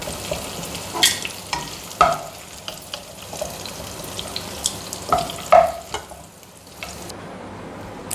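Bitter gourd being sautéed in a pan, a soft continuous frying hiss punctuated by irregular spatula scrapes and taps against the metal, close by, easing off toward the end without any speech.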